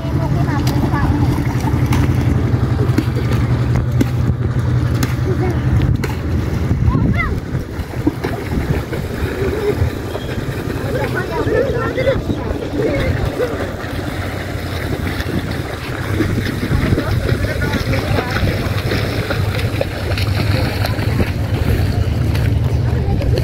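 A boat moves on the water at a riverside tourist spot in Kushtia. A low, steady engine-like drone sits under gusty wind noise, and people talk over it throughout.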